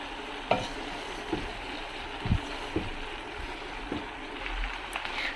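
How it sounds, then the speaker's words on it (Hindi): Pasta with softened vegetables being stirred in a pan, a low steady sizzle broken by several soft spoon scrapes and knocks against the pan at irregular intervals, close by, no talking. "तब मैंने इसमें डाल दिया पास्ता। ये मुश्किल काम है इसको मिक्स करना ना।"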